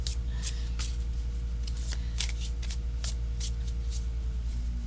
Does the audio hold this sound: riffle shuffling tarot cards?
yes